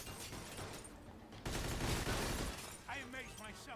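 Rapid bursts of gunfire and shattering in the Mafia II video game, a dense loud volley in the middle, with a person talking before and after the shots.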